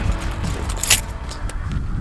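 Car keys jangle close by in a small Prius C hatchback, a short bright metallic rattle over low vehicle rumble, with no talk.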